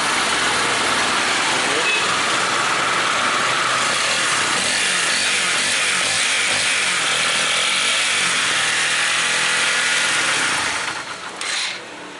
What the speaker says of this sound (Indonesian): Ini sudah hidup motornya.